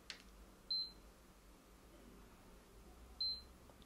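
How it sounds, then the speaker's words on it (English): Two short, faint electronic beeps from a PS5 console as its power button is held for a force restart, about two and a half seconds apart, heard over a quiet room hum. "press and hold this button until you hear it beep twice"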